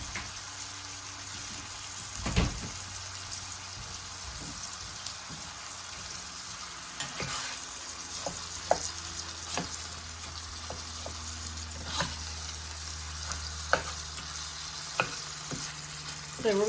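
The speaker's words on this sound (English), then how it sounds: "So we're going to cook this until it's all brown" Onions and ground meat fry in a pan with a steady, close sizzle, broken by occasional scrapes and knocks of stirring; no one speaks over it.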